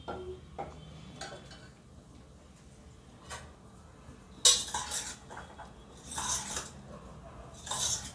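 Egg paya mixed with boiled pea gravy in a pan, heard as metal spoon scrapes and clinks against the pan in scattered bursts, with louder clattering stirs near the end.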